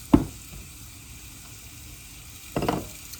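Onion dropped into a hot black skillet: two short bursts of sizzling, the first right at the start and the second near the end, close, with quiet hiss between.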